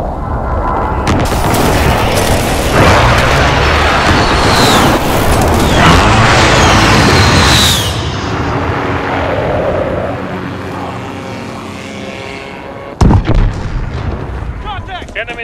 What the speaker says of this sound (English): Allies precision airstrike incoming